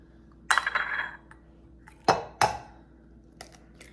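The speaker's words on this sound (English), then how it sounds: "I'm gonna crack the egg in the bowl. 2 eggs is enough." Two eggs cracked against the rim of a bowl for a donut dipping mixture: sharp close taps with brief crackling, one rough crack then two quick sharp knocks, a faint later tick, in a quiet kitchen.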